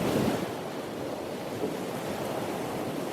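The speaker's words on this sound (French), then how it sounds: "j'entends rien par le bruit des vagues." Ocean surf washing in a steady broadband roar, loud and close, with no voices and a slight wind-like hiss throughout.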